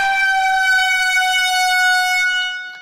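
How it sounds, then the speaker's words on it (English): A loud, sustained air horn blasts alone for nearly three seconds, steady and harmonic-rich, then cuts off, used as a celebratory alert during a live vinyl record sale auction. "Air horn alert."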